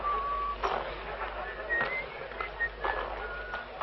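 A man whistles a wavering tune in a 1943 crime thriller, thin and fairly faint notes drifting up and down over a low background hum.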